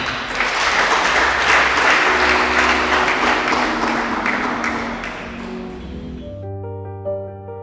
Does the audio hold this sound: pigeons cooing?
no